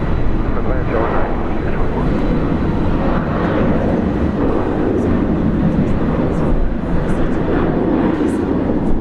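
An airliner lands at Brisbane International Airport, a broad, loud engine roar rumbling steadily throughout with no break, while talk runs faintly beneath it.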